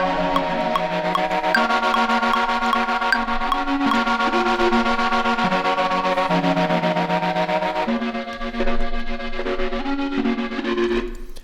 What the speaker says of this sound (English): I could add distortion to that and see what that sounds like